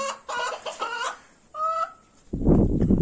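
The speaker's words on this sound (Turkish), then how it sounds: "Black Motlet tavuklar ve horozumuz." Several Black Mottled Cochin bantam chickens cluck and cackle nearby in short bursts inside a coop, followed by a rougher, louder rooster call near the end.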